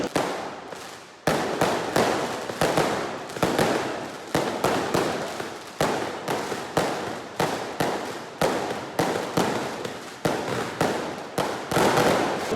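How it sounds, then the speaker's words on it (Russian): Fireworks explode in the middle of a street in Valencia, Spain, just a few metres away. A rapid string of loud, sharp bangs comes roughly every half-second to second, each followed by a brief crackling tail. "Буквально в 5 метрах от нас начал взрываться салют."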